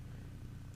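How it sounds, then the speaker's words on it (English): A cat purrs right beside the microphone: a soft, continuous low rumbling that stays faint and even for the brief moment it is heard. "so if you hear random purring"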